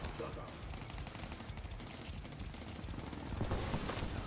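Gunfire in the Black Ops 3 video game comes as dense, rapid bursts of shots under a low rumble, fairly faint and continuous, with speech mixed in.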